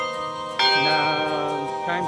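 A bell chimes the Times of Mary at the Marian Orchard in Balete, Batangas, ringing clear sustained tones that change pitch partway through, fairly loud with a faint murmur behind.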